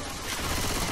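Gunfire in the zombie shooter Left 4 Dead 2, a brief dense roar of shots with a rising end, no talk.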